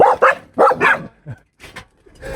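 Dogs at a house bark and yip in a rapid burst of several close, loud barks, then a short pause and a couple more softer yips and whines, with no talk.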